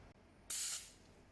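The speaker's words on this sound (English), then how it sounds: "we can spray the adhesive on the back of the" Adhesive spray from an aerosol can is applied to the back of embroidery patches in one loud hiss of about a quarter second that then fades out, alone in a quiet room.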